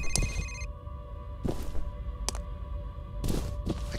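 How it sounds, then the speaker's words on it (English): A telephone rings several times from somewhere off in a room, with short bursts separated by quiet gaps and a lingering electronic tone early on. "There's a phone ringing someplace."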